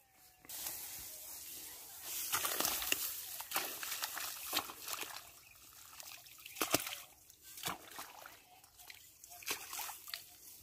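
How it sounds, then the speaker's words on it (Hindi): Irrigation water flows into a wheat field, a faint, steady trickle and splash with scattered sloshing bursts, heard alone at low level. "खेत में पानी हो चुका है चालू, गेहूं पानी चलने लग गया"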